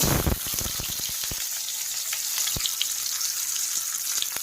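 Chopped onion hits hot oil with mustard seeds and cumin in a pan for a radish and radish-greens stir-fry, with a burst of spattering pops at first that settles into a steady close sizzle with scattered crackles.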